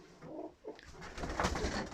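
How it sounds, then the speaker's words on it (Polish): Pigeons coo in soft, throaty bursts, a few low rolling calls close by with no one talking. "Jest sporo tych gołębi, Budapesztów i wszystkiego jest."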